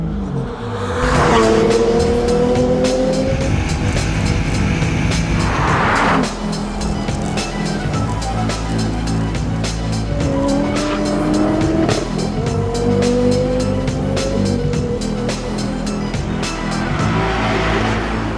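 Volvo S60 Polestar road car, engineered by Cyan Racing, at full throttle on a record lap of the Nürburgring Nordschleife, loud engine revving through rising gear pulls with bursts of tire squeal in the corners and no talk.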